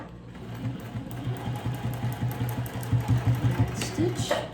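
A sewing machine stitches a clear vinyl pouch in a short, uneven run of close mechanical thumps, with a voice speaking over part of it.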